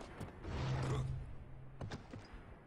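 Gate mechanism adjusted with a wrench in the Bioshock video game, a low mechanical creak and grinding hum that swells, then fades, followed by a couple of faint clanks.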